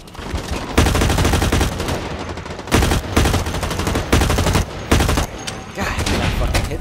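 Heavy gunfire roars in the shooter game Blacklight Retribution, loud machine-gun bursts stopping and restarting in several long volleys, close and dense throughout.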